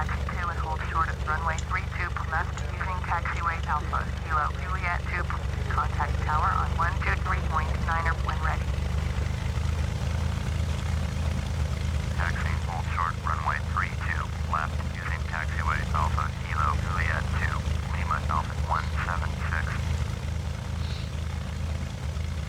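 Propeller airplane taxiing for takeoff in the FsPassengers flight simulator game, a steady loud low engine drone throughout, with a voice talking over it in two stretches.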